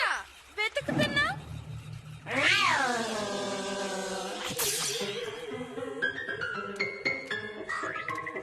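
A cartoon cat meows and caterwauls in several drawn-out, wavering cries, close and fairly loud, with a musical score and other cartoon sound effects around them.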